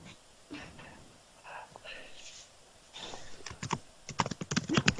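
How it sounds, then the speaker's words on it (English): Rapid typing on a computer keyboard during a cosplay podcast recording, a quick run of close clicky keystrokes that builds toward the end, with faint breathing and soft voices around it. "somebody appears to be typing a storm"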